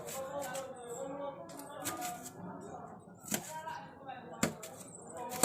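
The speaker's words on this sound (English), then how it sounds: "So that I've removed the stalk, so it's ready for slicing now." A knife slices a red Scotch bonnet pepper on a cutting board, giving sharp, close taps and chops at irregular intervals, with a few louder strikes, under a voice talking softly.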